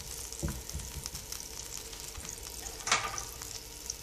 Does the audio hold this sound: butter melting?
yes